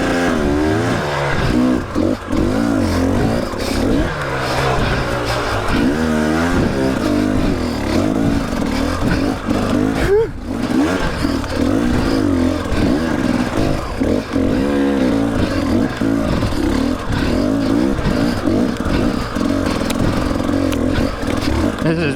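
An enduro dirt bike with a traction disc clutch weight climbs double step ups on a trail, its engine loud and close, rising and falling in repeated revs with a brief cut near the middle.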